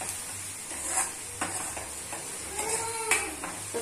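Onions with salt and turmeric are stirred in a frying pan for paneer ghotala, giving a soft constant sizzle broken by scraping strokes of the spoon, fairly quiet and close, with no talk.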